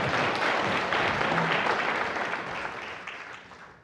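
During a Sunday church service, the congregation gives sustained clapping that holds steady and then gradually fades out over a few seconds.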